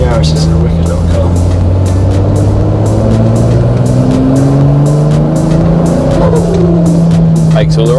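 A Toyota Yaris engine revving hard at a tuning workshop in Dubai, loud and close, its pitch climbing and settling in steady sweeps throughout without pause.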